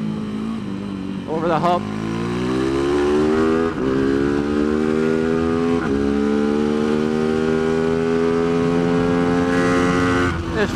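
Tianda TDR300 race motorcycle at Mission Raceway, engine climbing loud and close through successive gears with rising whine and brief dips at each shift, a rider speaking briefly over it.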